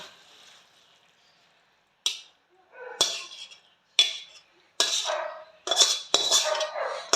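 Cooked prawn curry with potato, radish and eggplant is spooned from the pan into a serving bowl, with close metal scrapes and clinks coming in short bursts that grow louder and denser toward the end.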